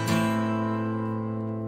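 One strummed guitar chord from a three-beat strum pattern, a single bright stroke at the start that rings on and slowly fades, heard alone and fairly close.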